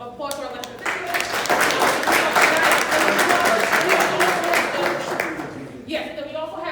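Audience applause for elected officials at an open house event, a dense burst of clapping swelling quickly, holding for about five seconds, then fading out.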